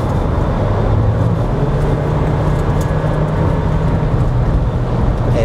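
A car, part of a comparison of the Citroën C4 Cactus, Volkswagen T-Cross and Renault Captur, accelerates over uneven asphalt during a suspension test, giving a loud, steady drone of engine and road noise with a low hum throughout.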